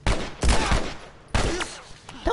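Gunfire in The Last of Us Part 1, with three loud, sharp gunshot bursts spread across a few seconds. Each blast rings and decays, and the first two come close together.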